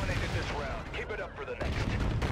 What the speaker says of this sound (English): I'm gonna throw a nade.